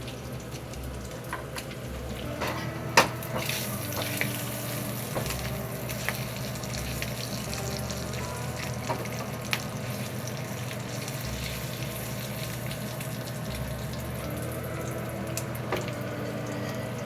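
T-bone steak frying in a pan, a steady quiet sizzle running throughout with soft clinks and small knocks of handling now and then.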